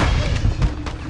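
A grenade blast in Call of Duty: Warzone 2 hits as a dull, heavy boom with broad rumbling low end, followed by a few softer thuds over roughly a second of loud, dense gameplay noise.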